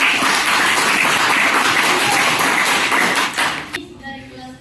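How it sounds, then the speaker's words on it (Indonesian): A classroom of students claps loudly for a student group after their presentation, dense steady applause that fades out near the end, leaving quiet room noise. "Oke, tepuk tangan dulu untuk kelompok B."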